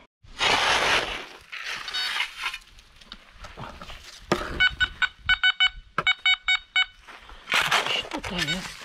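A metal detector sweeping a field or old riverbed emits a run of repeated short electronic tones in quick succession, with rustling and handling noise before and after.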